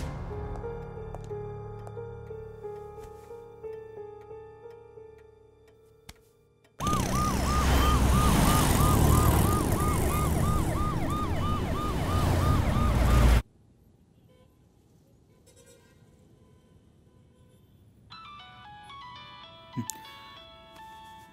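An ambulance siren in a Kannada film scene wails loud and close with a rapid repeating up-and-down cycle for about six seconds, cutting in abruptly after quieter background music and ending just as suddenly.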